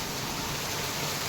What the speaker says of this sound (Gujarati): હજી તો ચાલુ જ છે વરસાદ